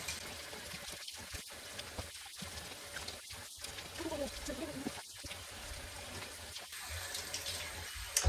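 Water runs steadily from a tap into a sink while a face product is rinsed off at night, with splashing and interruptions from hands in the stream, close and moderately quiet.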